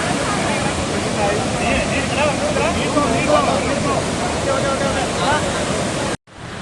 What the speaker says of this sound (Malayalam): ഇത് മൂന്നാറിന് പോണ വഴിക്കുള്ള ചിയപ്പാറ വാട്ടർഫോൾസാണ്